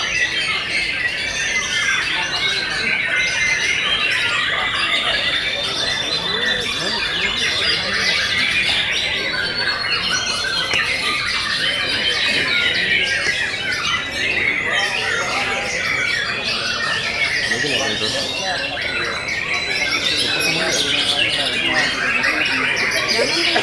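White-rumped shama (murai batu) songbirds singing during the sixth session of a bird contest: a dense, continuous chorus of bright whistles, chirps and squawks from many birds at once, steady and loud throughout.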